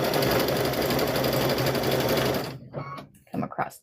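A sewing machine runs a blanket stitch around a fabric-wrapped rope bowl, a loud close rapid whirring hum that stops partway through, then a person talks.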